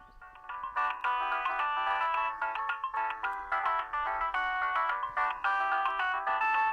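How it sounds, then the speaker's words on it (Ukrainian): A bright electronic 40-tone polyphonic ringtone from a 2003 Siemens C62 mobile phone plays a bouncy, multi-note melody in quick staccato bursts. It is loud and clear with nothing else in the background. "Оце така поліфонія була раніше, 40 тональна."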